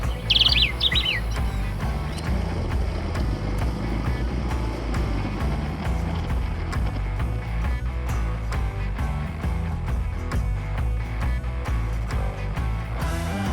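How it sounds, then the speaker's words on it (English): Bird chirps and song from trees in Cape Town over a steady background rumble of passing traffic, the calls fairly faint against the noise. "the beautiful noise of the birds in the trees"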